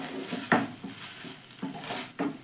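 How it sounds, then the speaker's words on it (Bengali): A utensil stirs tomato sauce into a filling in a pan, making soft scrapes and a few sharper clacks against the pan in an irregular rhythm, close and fairly quiet with no talking. "সসটা এবার ভালো করে একটু মিশিয়ে নিলেই কিন্তু পুরটা একদমই রেডি।"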